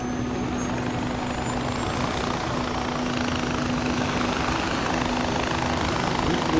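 A helicopter lifts off in Far Cry 4, its steady whirring rotor and engine drone holding loud and continuous throughout without any pause.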